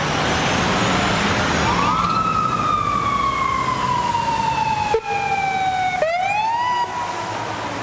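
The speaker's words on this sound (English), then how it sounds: "it was a little disconcerting to hear sirens and see the arrival of so many vehicles right outside our hotel in Tbilisi" Emergency vehicle sirens wail outside a hotel in Tbilisi, loud and near, one long tone sliding slowly downward before a fresh rising sweep, over a steady wash of street and traffic noise.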